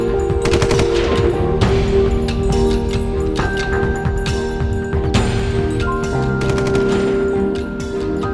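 Sustained automatic gunfire as covering fire near army bunkers, with dense, rapid bursts of loud shots and echoing cracks running continuously throughout.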